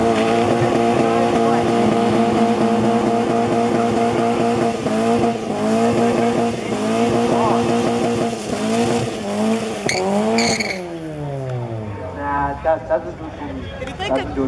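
Racing cars accelerating side by side in a drag race at Killarney, loud engines climbing through gears continuously, with tire squeal near the end and a commentator talking over them.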